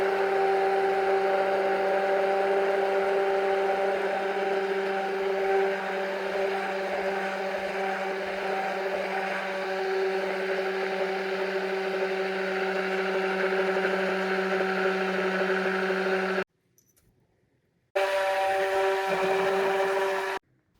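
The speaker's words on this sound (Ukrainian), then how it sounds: "На масло виливаю гарячу суміш і занурювальним блендером активно пробиваю все до об'єднання в таку гарну емульсію." Immersion blender whipping hot caramel mixture into butter to form an emulsion, a steady loud motor whine with a constant hum, cutting off briefly near the end before starting again.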